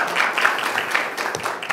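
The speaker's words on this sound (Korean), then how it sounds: "군수님께 다시 한번 박수 부탁드립니다." An audience at a peace forum in Pyeongchang applauds, a dense, steady round of clapping from many hands that fills the hall.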